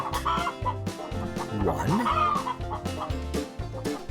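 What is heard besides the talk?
chickens clucking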